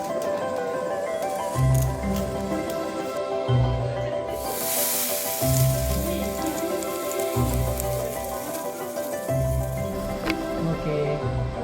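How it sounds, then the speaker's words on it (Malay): Rain falling near Ulu Langat in Malaysia during a family trip, a steady broadband patter continuing throughout, with repeated low rumbling bursts beneath and a brief heavier wash midway. "Kita orang sampai dekat Ulu Langat ni hujan."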